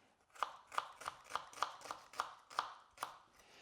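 Knife dicing a shallot on a cutting board for an oyster mignonette: about nine crisp, evenly spaced chops, close and clear, with no talking.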